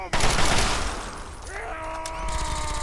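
Rapid gunfire in the video game Fallout 3, a loud burst of shots up front that trails off, followed by faint further firing with voices underneath.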